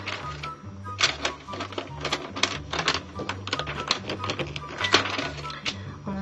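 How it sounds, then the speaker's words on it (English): A protective layer is peeled off an adhesive craft sheet, giving dense runs of sharp crackling ticks in irregular bursts over a low steady hum. "Now I'm separating the protective layer from the adhesive sheet"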